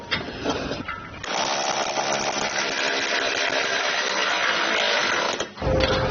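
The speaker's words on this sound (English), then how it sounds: "I'm going to be using an electric ratchet" An electric ratchet tightens the bolts of a hidden hitch receiver on a 2018 Audi Q5, whirring loud and steady for about four seconds between brief pauses, close by and with no talk.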